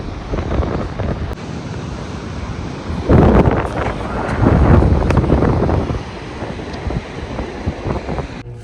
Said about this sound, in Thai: เสียงลมก็จะแรงมาก